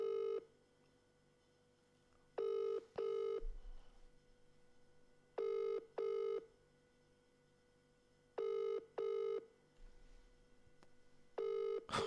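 An unanswered phone call rings out, a repeated double-burst ring tone in an evenly spaced pattern, clear and close with nothing else over it.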